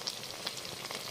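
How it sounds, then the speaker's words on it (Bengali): Dry fish fritters (pakora) frying in hot oil give a soft, steady sizzle with small crackling pops, faint and close, with no voices. "এবার এগুলো ভাজা আমার দিয়া দিছি, এগুলো ভাজা হইলে আমার বড়া ভাজা কমপ্লিট"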